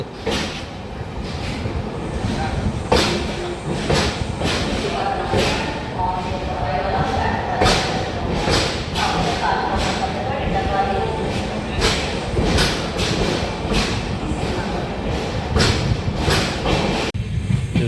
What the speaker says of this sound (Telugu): మన ట్రైన్ బయలుదేరింది విజయవాడ రైల్వే స్టేషన్ నుండి